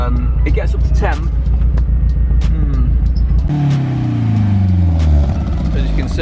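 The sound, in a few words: BMW E36 engine misfiring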